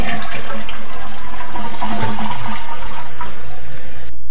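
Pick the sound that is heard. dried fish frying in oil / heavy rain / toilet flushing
toilet flushing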